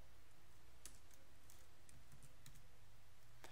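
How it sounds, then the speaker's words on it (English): A quick keyboard shortcut tapped on a computer keyboard while setting up code snippets in Visual Studio Code, a few soft, separate key clicks over faint room hiss, close and quiet with no talking. "now I should be able to do command C and then L,"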